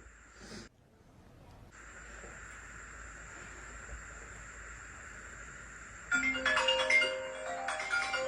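A phone ringtone chimes in a repeating electronic pattern, faint at first under a steady hum, then louder bursts of melody near the end.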